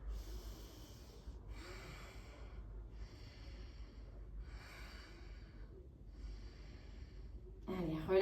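Slow, audible breaths drawn in and let out during a yoga pose, soft and close against a low steady background hum, in about four calm waves, with a brief sound at the very end.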